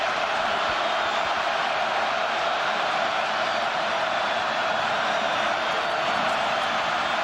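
A large football stadium crowd at a 2000 Notre Dame vs Boston College game keeps up a dense, continuous roar of noise on a third down, steady and undulating, with no voices standing out.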